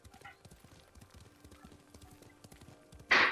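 A horse in the samurai game Ghost of Tsushima clip-clops along at a steady walking rhythm, soft, close hooves repeating under faint ambience, ending in a sudden louder burst of noise.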